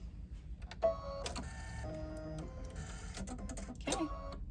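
An embroidery sewing machine stitches flower designs onto fabric bunny silhouettes, giving a steady, close mechanical whirr with shifting motor tones and small clicks for several seconds, without talk.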